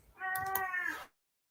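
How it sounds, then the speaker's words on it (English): A cat lets out one clear, close meow lasting about a second, in a quiet room during a home-office work call. "get this cat out."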